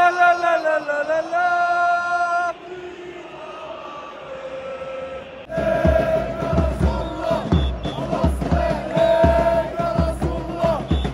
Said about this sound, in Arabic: الاجواء كيف ديما الجمهور